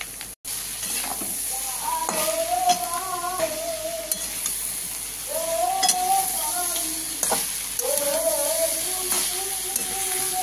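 Ash gourd sautéing in a pan with fried spices, a soft sizzle under a voice that speaks in short phrases, with occasional scrapes of a spoon.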